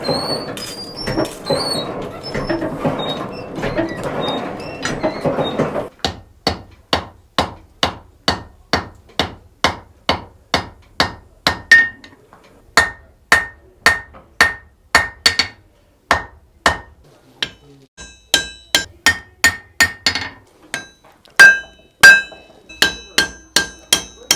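A blacksmith forge-welds a bolt using traditional 1700s methods, striking hot iron on an anvil. A quick roaring burst comes first, then a long run of sharp, ringing hammer blows falls in a steady rhythm with short pauses.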